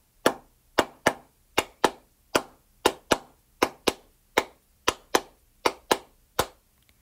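Hands clapping a syncopated rhythm for a sixth-grade music class, fourteen crisp, close, evenly loud claps in a repeating uneven pattern, alone with no voices.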